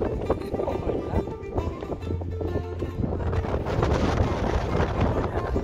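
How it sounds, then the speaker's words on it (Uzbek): Strong wind buffets the microphone at an ancient hilltop fortress, producing a steady, loud rumbling roar with gusty fluctuations throughout, with no other sound standing out clearly. "Ammo shamol dahshat tushgan."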